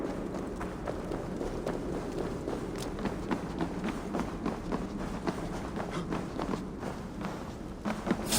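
Rapid, rhythmic footsteps approach in Assassin's Creed Valhalla, a steady thudding run like many feet or hooves that grows slightly louder toward the end, with no speech.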